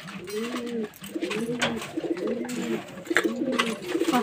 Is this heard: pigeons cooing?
yes